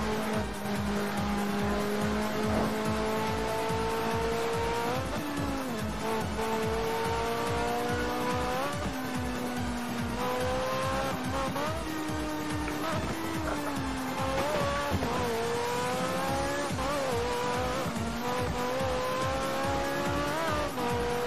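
A Ferrari in the racing game Test Drive Unlimited Remastered, driven with a Logitech G27 wheel, revs steadily with rising and falling engine pitch through gear changes and occasional tire squeal, loud and continuous throughout.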